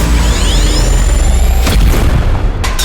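A single loud shot goes off in a trap-beat setting, a heavy booming blast with a long rumbling tail that fills the short clip.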